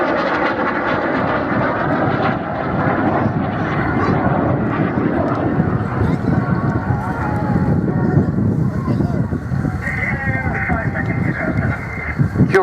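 A Folland Gnat jet flies its display at the Culdrose 2015 air show, producing a loud, continuous engine roar with wind buffeting that lasts throughout, while a voice talks over it.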